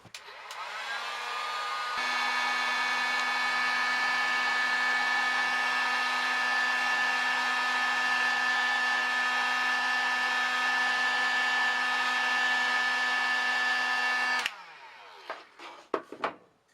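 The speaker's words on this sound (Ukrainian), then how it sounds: "Далі я запаюю термозбіжні ковпачки за допомогою будівельного фену." A heat gun shrinks heat-shrink caps onto bottles of homemade grape chacha brandy. It gives a loud, steady, even whir that runs for about twelve seconds, then cuts off, followed by a few faint handling clicks.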